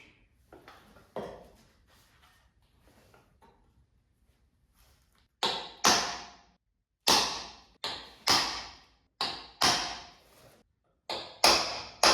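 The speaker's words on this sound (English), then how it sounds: "Get these holes marked up with a punch." A series of sharp metallic taps from a center punch marking holes on a rotten 1975 Dodge truck frame, struck one at a time with short pauses, loud and close, after a quieter stretch of faint knocks.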